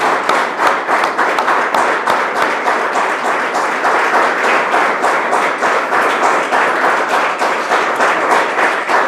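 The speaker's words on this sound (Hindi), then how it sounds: "आइए हम परमेश्वर को धन्यवाद देंगे ताली बजा के" A Sunday church congregation claps together in dense, continuous, loud applause with a quick rhythmic pulse, steady throughout with almost no talk over it.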